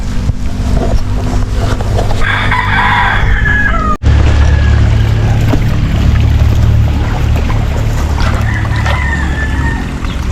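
Free-range chickens, including a brooding hen, cluck over a loud, steady engine drone, with a rooster crowing partway through, close by and fairly clear, in the countryside.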